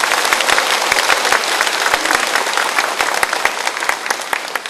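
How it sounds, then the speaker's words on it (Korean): A large crowd at a Democratic Party rally in Gwangju applauds loudly and steadily, with dense overlapping claps filling the hall without a break. "큰 감사의 박수를 한번 보내주시면 좋겠습니다"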